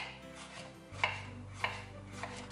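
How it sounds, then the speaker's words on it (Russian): A knife cuts peeled zucchini into rounds for a chicken and vegetable casserole, giving a few sharp, close chops on a board at an uneven pace with no talking. "Кружочками нарезаем кабачок."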